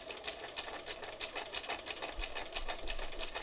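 A sewing machine back stitching at a slow pace, its needle pulsing in an even, rapid rhythm of close mechanical thumps with a light whirring motor underneath, alone without talk.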